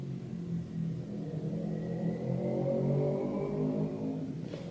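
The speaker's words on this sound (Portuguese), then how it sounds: "Nem começou o vídeo e já tem moto passando." Outside, a motorcycle passes by with a steady, mid-pitched engine drone that swells slightly and then fades, heard from a moderate distance with no talk over it.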